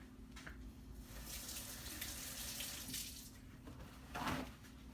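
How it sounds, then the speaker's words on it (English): A tap runs steadily into a kitchen sink as gloved hands are rinsed under it, the water hissing close and continuous with a brief louder splash near the end. "I'm going to go wash my gloved hands real quick."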